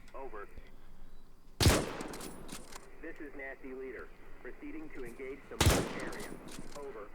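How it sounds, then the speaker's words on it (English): Mortar and artillery barrage in Arma 3's WW2 Spearhead 1944 setting: two sharp, heavy booms a few seconds apart, under someone talking throughout. "let's call down some artillery on that haystack"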